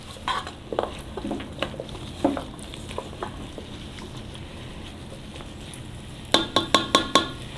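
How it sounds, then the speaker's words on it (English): Vegetables for a cabbage stew sautéing in a pan, a faint sizzle under scattered clinks and stirring knocks, ending with a quick run of five sharp utensil taps. "let's let that saute for another minute"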